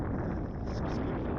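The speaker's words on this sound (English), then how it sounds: "because of the strong wind that now is here" Strong wind gusting at Grisslinge Beach in Sweden, a steady loud rush buffeting the microphone throughout with no speech.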